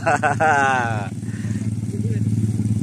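A Shogun motorcycle used as an ojek taxi at Muara Tinobu arrives with a steady, close engine drone and rhythmic idling putter, while people talk over it at the start.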